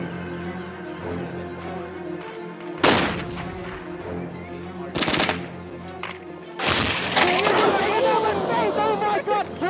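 Gunshots in an esports shooter match, with a few loud sharp cracks standing out among quieter firing, while a commentator talks excitedly over the action.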